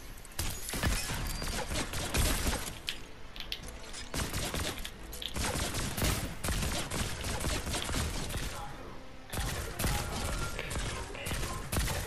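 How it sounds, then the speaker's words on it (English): Rapid bursts of laser gun fire in Fortnite, loud and dense across the whole stretch, mixed with game effects and continuous action noise. "I'm liking this laser gun."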